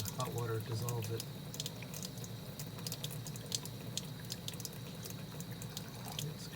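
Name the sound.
hot water rinsing and dissolving soap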